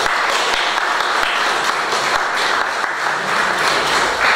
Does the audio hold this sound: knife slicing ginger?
no